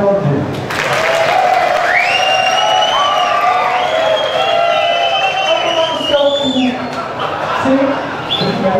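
A drag show audience at a Blue Space matinee with Silvetty Montilla breaks into loud applause mixed with whoops and high-pitched cheering, a dense sustained roar of clapping and shouts throughout.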